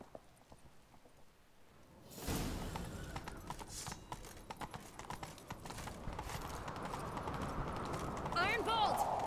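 Horse hooves from The Witcher 3 as horses are mounted for a chase, with a sudden burst of galloping clatter that keeps up steadily alongside other game sounds and rising background noise.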